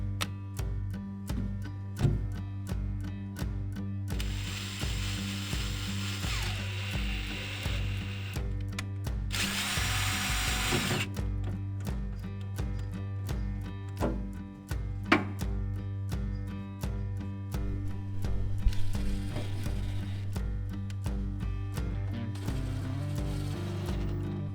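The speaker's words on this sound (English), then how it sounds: "I just borrowed this really cool rib nut setter from Nate" A rib nut setter installing rib nuts, with repeated mechanical tool bursts and rhythmic clicking spread over a steady background hum, several distinct setting cycles in a workshop, no talking.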